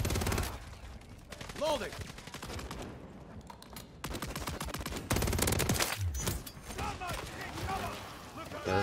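Bursts of gunfire ring out in the video game Modern Warfare 3, with rapid automatic volleys and single shots in irregular clusters, loud and close, mixed with shouted voices.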